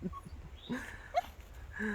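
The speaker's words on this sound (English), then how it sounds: "what is that little thing barking at us?" A small dog gives a few faint, sharp yips and whimpers outdoors along a hiking trail, quiet and intermittent against low background noise.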